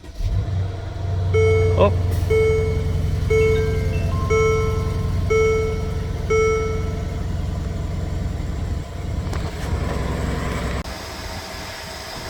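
A Mercedes GL X166 engine idles with a steady low rumble while the Airmatic suspension air compressor runs and refills its reservoirs, brief tonal chimes and a short spoken exclamation sitting over the continuous mechanical drone.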